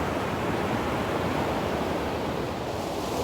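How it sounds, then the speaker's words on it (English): Steady ocean surf roars continuously, a dense wash of crashing water with no pauses or voices. "the waves sound amazing today, don't they?"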